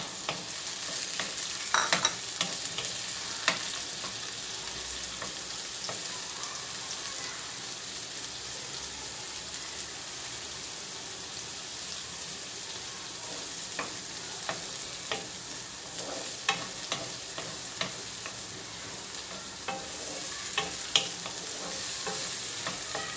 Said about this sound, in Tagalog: Kailangan po muna siya nating maluto ng konti yung ating tomato o kamatis mga kabayan